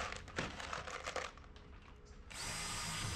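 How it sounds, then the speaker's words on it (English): A power drill drives temporary screws through wooden strips into the hull of a strip-planked canoe. Quiet whirring bursts and brief crinkling come close by, and then a steadier, louder drill run starts near the end. "we're just going to run down the hull and put all the screws in"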